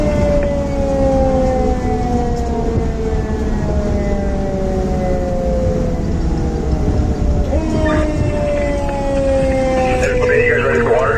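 A fire engine's wailing siren sounds loud and close for the whole ride to a structure fire, sweeping steadily in pitch, with horn blasts breaking in near the end.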